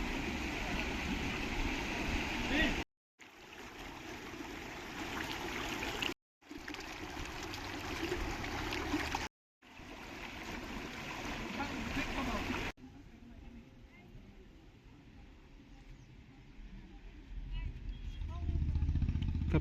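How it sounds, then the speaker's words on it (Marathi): Flowing water of the Kapila river at Tapovan in Nashik, a steady broadband rush heard close and continuous, cut by brief gaps, then a softer, more distant flow with a low rumble underneath. "कपिला नदी."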